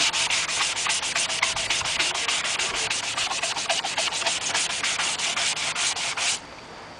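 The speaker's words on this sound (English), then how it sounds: "we're going to be sanding over the high spots so that the gray is left in the recessed areas" Rapid, rhythmic scratchy rubbing of a sanding sponge on painted clone trooper chest armor, sanding high spots, close and steady for several seconds before stopping abruptly.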